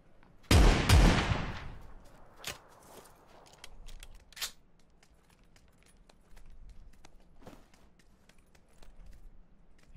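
A shotgun blast in a video game, one loud booming shot followed by a few sharper, quieter cracks and clicks scattered over a soft background.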